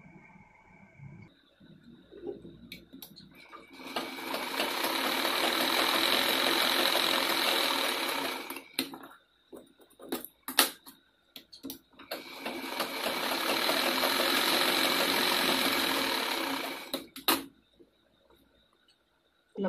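An electric sewing machine stitches a three-year-old's frock in two long, steady whirring runs close by, separated by short taps and handling noises.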